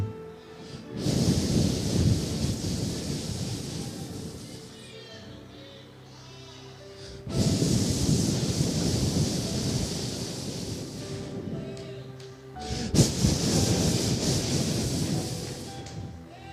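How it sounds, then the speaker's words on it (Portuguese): Three long surges of rushing, wind-like noise swell and fade in turn, loud and close, as a sound effect during a church sermon, with quieter gaps in between. "De repente, o som como de um vento."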